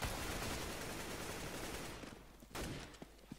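Gunfire in the video game CS:GO, a dense burst of rapid shots that fills the first two seconds, then drops away before a final sharp report and a couple of faint pops, with no voices.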